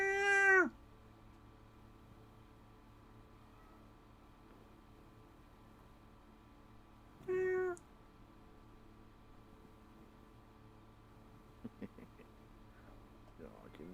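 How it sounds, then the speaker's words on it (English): A tiny, squeaky cat gives two short high meows spaced several seconds apart, close and fairly clear over a quiet hum, with faint small sounds near the end. "The tiniest, squeakiest cat ever."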